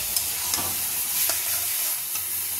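Spices and yogurt sizzle steadily in a frying pan under repeated light stirring strokes, no one speaking.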